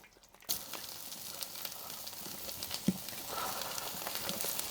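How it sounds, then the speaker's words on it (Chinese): Potatoes go into shallow oil in a pan and set off a soft, steady sizzling hiss, quiet and even, with a faint pop partway through. "我们现在锅里倒入点底油，先把土豆煎一下。"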